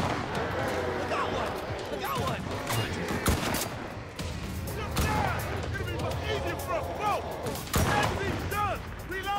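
Gunfire in the video game Enlisted, with repeated sharp shots and bursts scattered across the clip over a busy battle background, while a player talks throughout.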